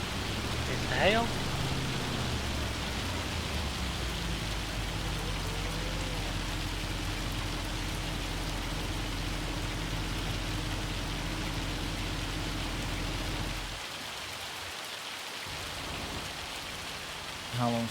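Steady rain or hail patters across a farm in Farming Simulator 25, a broad continuous hiss that runs under a low droning hum and chatter before briefly thinning out near the end.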